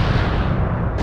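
Heavy video game artillery fire, a dense, loud, continuous rumbling barrage of booms filling the whole clip, with no voices over it.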